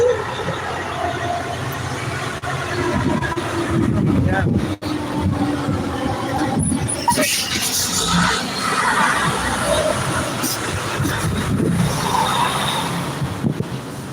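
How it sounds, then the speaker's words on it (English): A big delivery truck passes close by as a loud, broad rumble that holds steady for the whole stretch, with rattles and a brief dip midway and background talk beneath it. "That was a big delivery truck."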